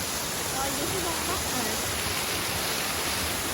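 Sojeongbang waterfall in Jeju, reached by steel stairs, roars as a dense, steady rush of falling water heard up close and filling the whole scene.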